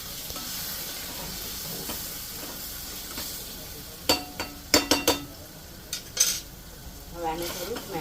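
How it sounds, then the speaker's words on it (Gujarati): Pav bhaji vegetables frying in a pan with pav bhaji masala, a steady sizzle running throughout while a spoon scrapes and clanks against the pan in a quick cluster of sharp knocks toward the end. "હવે નાખી દે પાવભાજીનો મસાલો."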